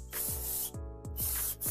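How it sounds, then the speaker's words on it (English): Carburetor cleaner sprayed onto a greasy engine during a BMW 328i E90 valve cover gasket job, several short hissing bursts separated by brief pauses, close and fairly loud with no talking. "use like some carburetor spray. around here, you have a bunch of grease, you know, you just spray it down and then wipe it down"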